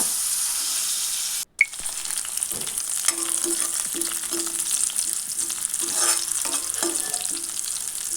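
Small pieces of green chilli frying in a pan with pumpkin leaves, giving a constant bright sizzle with a short break near the start and soft, intermittent stirring scrapes throughout, close and unaccompanied by speech.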